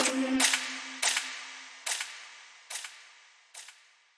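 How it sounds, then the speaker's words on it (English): Gunshot sound effects in a drill beat ring out as five sharp, echoing cracks spaced roughly a second apart, each decaying quickly, following a short low tone at the start. "Just like a simple gunshot."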